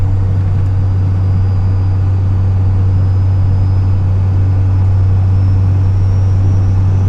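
Steady, loud low drone of a Toyota truck driving along a road, a constant deep engine hum and road rumble filling the whole stretch without a break.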